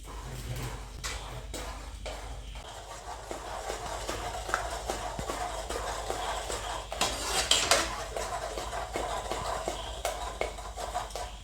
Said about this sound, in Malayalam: ഇനി നമുക്കിത് നന്നായി കയ്യിലോണ്ട് ഉടച്ചു കൊടുക്കാം